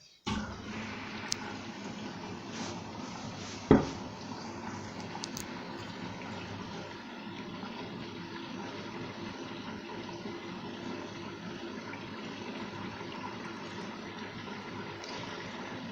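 A washing machine starting a cotton 60 program for a duvet cover, sheet and blanket, with a steady mid-level rush like water filling the drum. A single sharp knock comes early, then the flow continues evenly.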